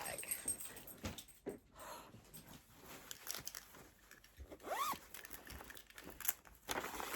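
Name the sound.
dog whimpering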